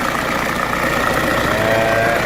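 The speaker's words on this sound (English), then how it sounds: "The rattle, I believe, is the alternator." Idling Audi A4 Sport Avant TDI diesel engine with a rattling alternator, a steady close engine drone with a constant mechanical rattle throughout, a voice faintly present underneath.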